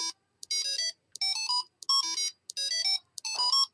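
A micro:bit buzzer giving electronic tones in short bursts of stepped, shifting pitches, six rapid groups over a few seconds, clear and close with no voices.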